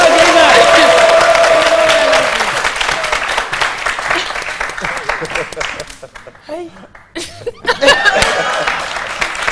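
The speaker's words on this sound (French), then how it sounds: "Applaudissez à Gaëven" Studio audience applauding a guest named Gaëven on a French-language midday TV show, loud sustained clapping with some laughter that tapers off, a host's voice speaking over it.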